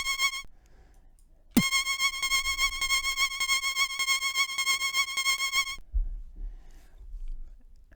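A bright synthesizer tone from the Rainbow VST pulses rapidly and evenly for about four seconds while a MIDI key is held, then cuts off abruptly. No one speaks.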